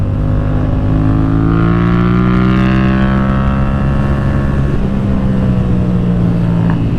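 A Yamaha FZ07/MT07 motorcycle engine drones loudly while riding, its pitch rising as it accelerates, then holding steady, with wind noise over the top and no talk.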